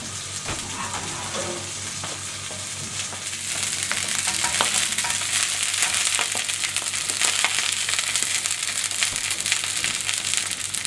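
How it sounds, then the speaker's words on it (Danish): Medister sausage fries in a pan of well-heated oil, a dense sizzle that swells louder partway through and stays crackling and spattering, close up, with no voices. "nu skal vi til at stege medisterpølsen. Jeg har puttet lidt olie på panden,"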